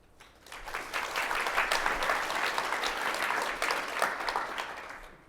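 A conference audience claps in answer to a show-of-hands question, the applause swelling over about a second into a dense, steady patter of many hands, then tapering off near the end; no talking.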